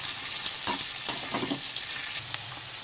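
Onions and green chillies sautéing in a pan for tomato pulao: a steady close sizzle with scattered spoon scrapes and stirring clatter, no voices.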